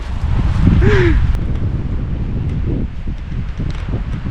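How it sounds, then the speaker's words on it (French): Gusty wind buffeting close to the microphone in a rocky desert in Norway, low rumbling and rustling, with a brief faint squeak near the start. "il y a trop de vent"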